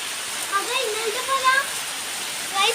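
Heavy rain pours down in a steady, dense hiss that never lets up, with a voice talking quietly over the downpour.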